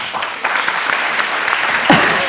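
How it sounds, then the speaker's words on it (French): Loud, close applause from an audience at a fashion round table discussion, many hands clapping in a steady patter with a brief voice cutting in near the end. "Donc déjà, je trouve que ça s'applaudit pour commencer."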